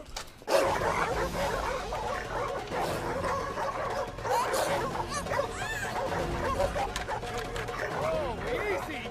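Several dogs bark and yip in a yard near a back fence and door, a busy run of barks and whimpers under and between voices talking throughout.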